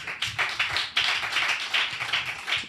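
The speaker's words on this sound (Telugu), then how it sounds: "అర్థమైతే చప్పట్లు కొట్టండి" A church congregation at an Easter service claps together in a steady, fairly close rhythm of bright, repeated hand claps.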